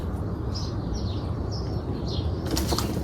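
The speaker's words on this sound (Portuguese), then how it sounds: "Por isso tá esse monte de passarinho passando pra lá e pra cá." Soft fluttering of small birds' wings passing by several times in a garden, with faint chirps over a quiet outdoor background; a brighter rustle near the end.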